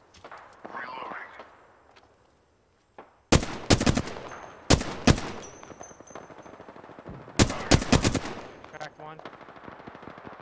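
Automatic gunfire in an online shooter video game, with sharp bursts of rapid shots in a few clusters after a quiet stretch of faint game sounds, while a player speaks briefly.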